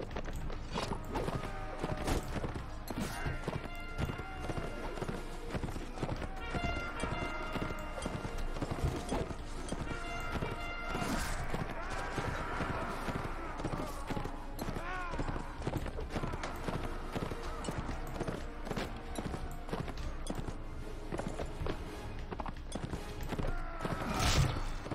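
Rapid hoofbeats of a galloping horse clatter in a steady rhythm throughout, mixed with mechanical clicks and other game noises in Mount & Blade Imperial Rome.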